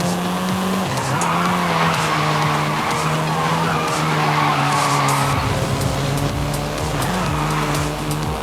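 A Volkswagen Golf R driving in Forza Horizon 5, its engine holding a steady drone with shifting pitch while tires skid and squeal loudly and continuously through the whole stretch, with no talk.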